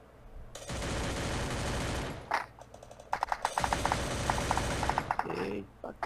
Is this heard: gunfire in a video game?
yes